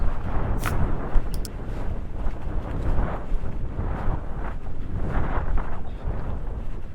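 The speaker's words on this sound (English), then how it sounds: "As you can hear, it's actually quite windy today and very choppy." Steady, strong wind on the seashore buffets the microphone with a constant rushing roar, gusting slightly louder and softer, with no other clear sounds, along a sea walk in West Vancouver on a choppy day.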